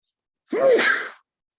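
A single sneeze, a sharp breathy burst with a short voiced rise, brief and nearby against silence.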